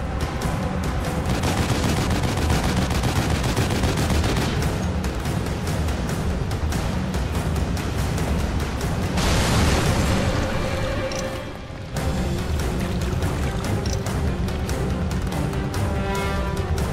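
Heavy gunfire from a big gun in the PlayStation 4 game The Evil Within, dense loud bursts of booming shots running almost continuously, with a short pause before the barrage resumes.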